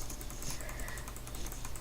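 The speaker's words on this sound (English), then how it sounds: "you can stop clicking now" Rapid clicking on a computer while playing Cookie Clicker, a dense, fast, even stream of close, crisp clicks with no pauses, sounding much like typing.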